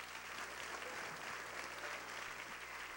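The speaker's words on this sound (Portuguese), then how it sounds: "Aplaude mais forte ao Senhor." Applause at a church prophetic conference fills the space as a continuous, even wash of many hands clapping, moderately distant and steady, with no talk over it.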